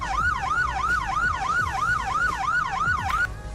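Sheriff patrol car siren in Roblox Greenville, a rapid yelp pattern cycling about three times per second, loud and steady before cutting off.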